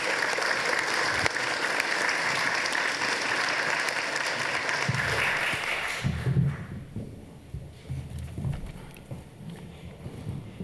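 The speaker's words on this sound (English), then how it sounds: "if you could give them a round of applause" A seminar audience gives a panel a sustained round of dense applause for about five seconds, then it drops away to quieter room noise with faint rustling and scattered taps.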